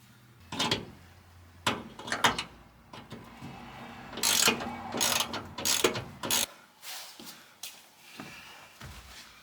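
A ratchet clicking in bursts while backing out 1/4-inch vent screws on a 1967 Impala, with close, loud rapid pawl clicks and short pauses between turns.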